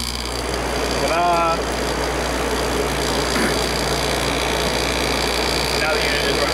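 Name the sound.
air conditioner unit running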